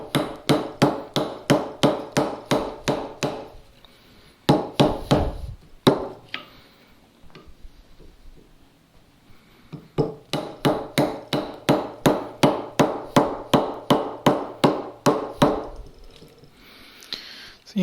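A mallet strikes a chisel chopping a mortise in wood, landing in fast, regular, sharp close blows in two long runs separated by a quieter pause with a few isolated knocks.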